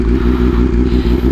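A motorcycle engine running with just a little throttle added, giving a close, steady, low throbbing pulse with a slight rhythmic clatter and no talk.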